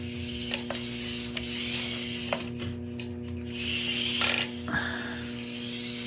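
An Orlandoo Hunter RC trophy truck drives in real time, its tiny motor and gears giving a close, steady mechanical whir with clicks and ratcheting rattles that rise in a louder burst near the end.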